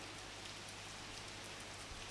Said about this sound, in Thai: ฝนตกเนอะฝนตกไว้ที่ห้องทรงวัดปะตังเจริญนี่นะฝนตก